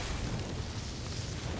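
A rumbling explosion in the God of War video game, a dense, loud, sustained roar of low booming noise that holds steady for a second and a half with no speech.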